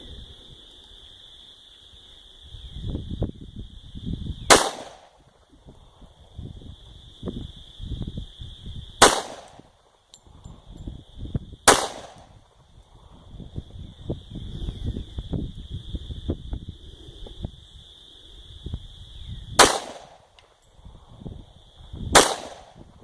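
Five sharp rifle gunshots are fired at an outdoor shooting range, spaced irregularly several seconds apart, each a loud crack with a brief ringing tail, with low rustling and handling noise between shots.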